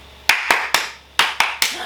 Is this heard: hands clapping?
yes